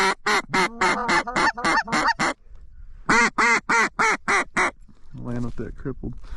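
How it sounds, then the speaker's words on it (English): Ducks flying in during a waterfowl hunt: two loud, close series of rhythmic quacks, then a lower, raspier burst of calls at the end. "2 ducks coming right in here"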